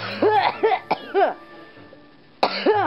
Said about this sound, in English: you're coughing all of a sudden